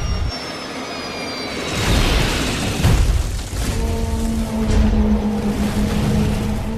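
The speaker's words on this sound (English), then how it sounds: "Moments later, the aircraft plunges into the hillside." A dramatized airliner crash into a hillside, with a roaring jet engine building into heavy rumbling impact booms, loud and continuous with no voices.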